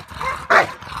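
A pitbull protection dog gives a single loud, close bark during outdoor bite-work training, preceded and followed by quieter yipping and panting sounds.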